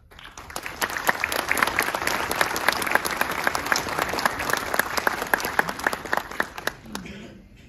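A crowd applauds steadily at a military pilot training graduation ceremony, many hands clapping at once in a sustained burst that fades out toward the end.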